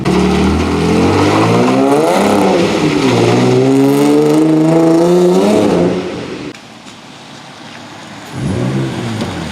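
A Nissan 350Z fitted with test pipes and a Jones resonator revs hard and accelerates in a parking lot with a rising, throaty exhaust roar, drops off briefly, then swells again nearby.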